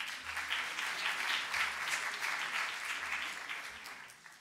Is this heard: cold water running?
no